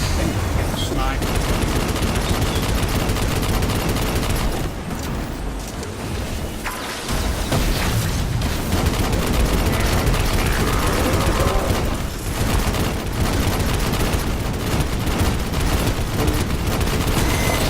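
Sustained machine-gun fire from Destiny 2 Forsaken during a heroic strike, dense rapid bursts mixed with booming explosions and game effects, loud and continuous with brief lulls.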